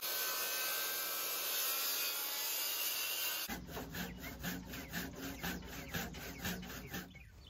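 Rhythmic back-and-forth rasping of a handsaw biting into a timber-frame wooden beam, steady strokes starting after a few seconds of hiss, close and fairly loud.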